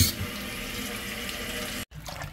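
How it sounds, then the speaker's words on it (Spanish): Tap water runs steadily into a bowl of soaking papaya pieces, a close, even rushing pour that stops abruptly near the end before a quieter trickle resumes. "Entonces ahora le vamos a echar agua para que se cubran"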